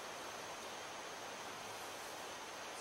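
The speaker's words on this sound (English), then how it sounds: "That's Brush Creek behind me. You can probably hear it in the background." Brush Creek flowing behind a cabin in the Duck Mountain area, a steady broadband rush of running water that stays constant and fairly faint throughout, with no voices.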